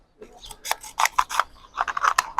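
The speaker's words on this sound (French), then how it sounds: "Complètement des ciseaux." Several crisp scissor snips in quick, uneven succession, close and fairly loud, with a short pause midway.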